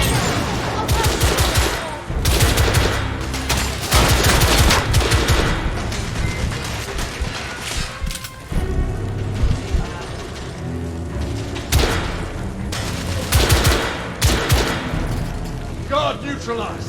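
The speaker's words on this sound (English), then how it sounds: "I'm taking suppressing fire!" Sustained suppressing gunfire from a firefight in The Order: 1886, a Victorian-era shooter, with dense rapid bursts and mechanical clatter filling the scene nearly nonstop, loud and close, with voices mixed in.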